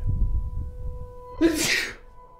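One sharp, close sneeze bursts out after a moment of quiet, with a faint steady hum in the background.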